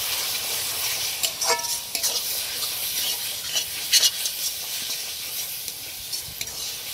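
Ginger garlic paste sizzles steadily in a hot pan for a chicken curry, a soft continuous hiss broken by a few brief scraping stirs, close and alone with no talking.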